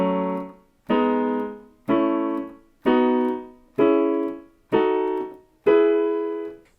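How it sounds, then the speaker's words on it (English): Piano plays the seven chords of E Ionian in order, full struck chords at an even pace, each ringing and decaying briefly before the next, close and alone with no talking. "when we play the 7 chords in order, major 1, minor 2, minor 3, etc."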